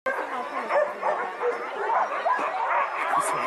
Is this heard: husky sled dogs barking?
yes